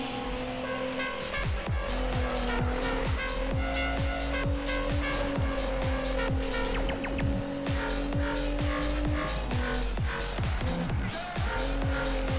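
A Ferrari 458 Italia slides through drifts in a Need for Speed racing game, its engine wailing loud and steady as repeated tire squeals and skids cut in throughout.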